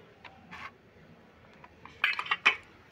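Metal fork pressing a design into dudh puli pitha dough: scattered soft clicks and clinks, quiet and irregular, with a cluster of brighter taps toward the end.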